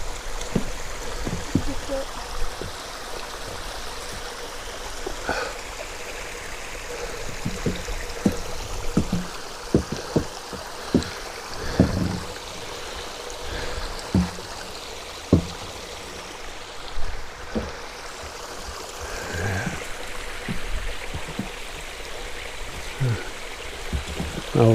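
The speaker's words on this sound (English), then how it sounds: "Now this drainage goes way down, back down to the reservoir, empties out there, I guess." Water runs steadily down a drainage channel toward a reservoir, a continuous moderate trickling rush with scattered clicks and knocks over it, and occasional voices nearby.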